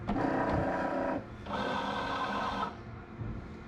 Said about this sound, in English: it's finally printing something, and I think it's the test print